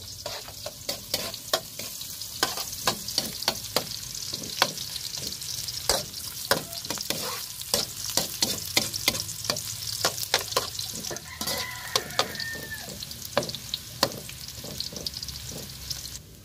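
Garlic, onion and ginger sauté in hot oil in a pan for chicken tinola, a continuous close sizzle broken by frequent sharp scrapes and clicks of a spatula stirring at an irregular pace.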